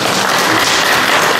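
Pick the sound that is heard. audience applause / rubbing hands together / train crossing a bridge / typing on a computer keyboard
audience applause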